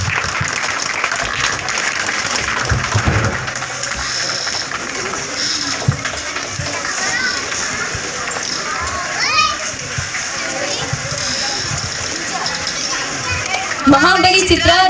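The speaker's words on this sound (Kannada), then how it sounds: "ಎಲ್ಲರೂ ಜೋರಾಗಿ ಚಪ್ಪಾಳೆಯನ್ನ ತಟ್ಟಬೇಕು." Crowd applause at an honouring ceremony held by the Mahabali film team for a guest and his wife, a dense, sustained wash of clapping mixed with children's voices and general hall chatter throughout.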